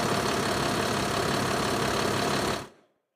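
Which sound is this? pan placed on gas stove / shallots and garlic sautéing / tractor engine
tractor engine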